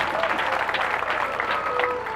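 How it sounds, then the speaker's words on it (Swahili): Audience applause for a priest marking 25 years of priesthood at a church celebration, a dense continuous wash of many hands clapping, fairly loud and steady throughout. "Tumpigie makofi tena."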